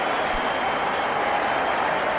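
A cricket crowd at a one-day international between India and South Africa applauds steadily for Harbhajan Singh as he is dismissed, a dense, continuous roar of clapping throughout.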